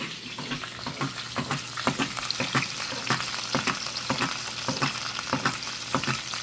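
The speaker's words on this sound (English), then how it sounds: "The bubbling of the grease." Sausage sizzles in a hot pan as grease bubbles and spits with rapid crackling pops, close and steady, with nothing else over it.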